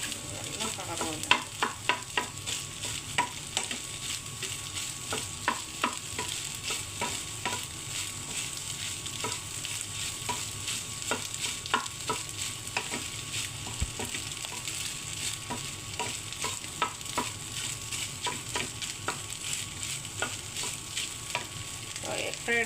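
Egg sizzling and being stirred in a pan for egg fried rice, with steady frying hiss and repeated sharp scraping strokes of the spatula at close range.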